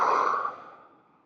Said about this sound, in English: and then breathing out.